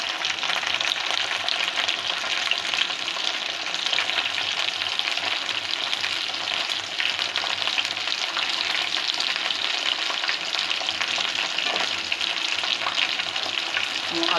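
Chicken pieces fry slowly in oil in a pan over low heat for a chicken roast, giving a steady, close sizzle with occasional stirring and no voices.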